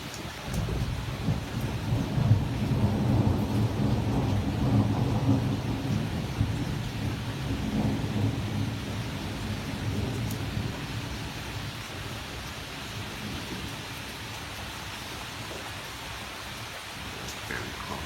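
A heavy summer thunderstorm pours down in steady dense rain while deep thunder rumbles loudly through the first half, then the downpour continues as an even hiss with occasional distant rolls.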